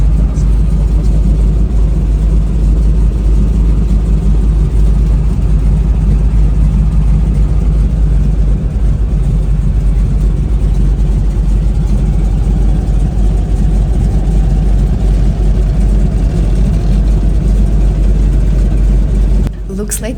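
A de Havilland Beaver floatplane engine roars at full power during a water takeoff in northern Ontario, a loud, steady low drone that holds for about twenty seconds before cutting off abruptly near the end.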